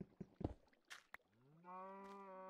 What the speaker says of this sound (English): Yes, Mr. Cow.